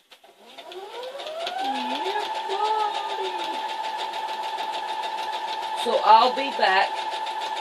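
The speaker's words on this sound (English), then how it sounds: "we are going to sew this quilt down" A sewing machine runs up to a steady whirring hum and keeps going as it stitches down a quilt made with newspaper, with a person briefly speaking over it.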